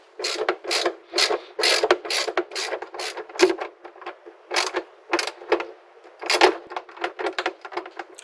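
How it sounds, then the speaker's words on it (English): Ratchet tightening two bolts inside a Stillen cold air intake box on a Toyota Tundra, bursts of close, crisp clicking strokes in uneven runs with short pauses, no voices. "we can move on to tightening those two bolts on the inside of the box"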